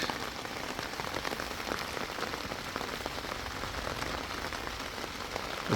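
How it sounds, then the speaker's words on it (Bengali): Steady pre-dawn rain falls on a cauliflower garden bed, a dense continuous patter of drops that holds even and unbroken throughout with no voices. "ভোররাত থেকে টানা বৃষ্টি"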